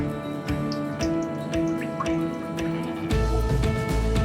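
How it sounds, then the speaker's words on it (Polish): Cooking oil, about half a litre, pours from a bottle into a frying pan with close, continuous glugging and pattering, and a few distinct drips stand out along the way. "wlewamy na patelnię 500 ml oleju"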